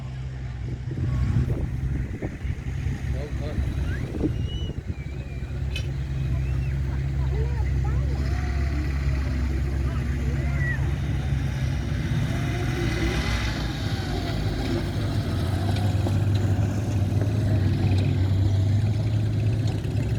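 Steady engine rumble of motorbikes driving at a WW2 battle re-enactment, a continuous low drone with some revving, alongside wind noise and a voice talking over it.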